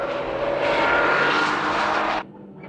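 A Honda NSX and a Mazda RX-7 race at Tsukuba circuit, a loud, rising engine scream that holds near for about two seconds and then cuts off abruptly, leaving faint background noise.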